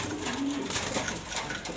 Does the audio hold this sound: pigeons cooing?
yes